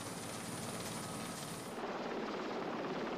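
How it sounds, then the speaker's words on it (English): Rotor wash and engine roar of a helicopter directly overhead during operations at sea hang steadily, a dense whooshing drone that dulls slightly toward the end. "personnel working below need to be aware of high noise levels when the helicopter is"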